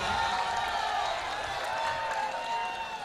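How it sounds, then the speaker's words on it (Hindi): An audience at a mushaira, an Urdu poetry gathering in Gorakhpur, applauds to welcome a poet, a dense, steady wash of clapping throughout. "मैं उनसे गुजारिश कर रहा हूँ एक बार ज़ोरदार तालियों में इनका इस्तकबाल करें।"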